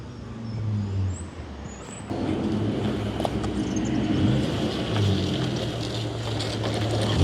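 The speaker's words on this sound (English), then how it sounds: "Sounds like a big engine." A large petrol engine in a BTCC-inspired race car rumbles steadily nearby, its low drone growing louder and fuller after a couple of seconds and holding without pause.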